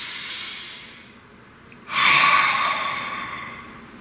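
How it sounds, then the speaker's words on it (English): Close, slow deep breathing: a soft airy exhale fades, followed by a louder, hissing intake of breath around the midpoint that tails off gradually. "Breathe."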